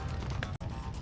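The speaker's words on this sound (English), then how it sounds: "Oh, that's a molly." A Molotov cocktail smashes in the Max Payne video game: a brief, close breaking crash surrounded by dense, loud game action.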